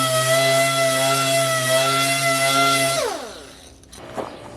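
Power sander run in straight lines over primer on a Camaro body, a steady tonal whine that winds down and cuts out after about three seconds, followed by faint handling noise.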